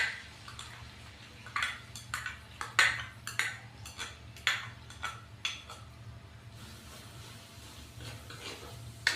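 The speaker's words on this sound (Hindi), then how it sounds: "हम उसी ऑयल के अंदर 2 से 3 अदद चॉप किए हुए प्याज डालेंगे" Two or three chopped onions fry in oil for bhindi masala while a metal spoon stirs them. Irregular clinks and scrapes against the pan sit over a low, steady sizzle, close by, and nobody talks.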